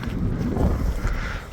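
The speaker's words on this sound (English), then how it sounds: "It's nice and windy." Strong outdoor wind buffets the microphone throughout, a loud continuous low rumble with no talking.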